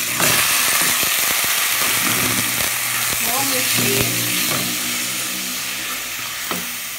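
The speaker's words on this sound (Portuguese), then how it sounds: "vou jogar o frango" Diced chicken sizzles loudly in a pan with garlic and oil, a dense continuous crackle close by with scattered stirring clicks, while someone briefly speaks over it.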